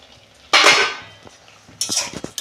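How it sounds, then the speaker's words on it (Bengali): A lid lifted off a cooking pot of boiled banana flower and chickpeas: one sharp metallic clank that rings briefly and fades, followed by a second, lighter rattle of metal against metal. "দেখুন বন্ধুরা, ঢাকনা খুলছি।"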